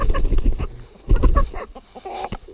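Fifteen-day-old chick, hatched after 15 days in an incubator, giving several close, loud chirps and cheeps in quick uneven bursts.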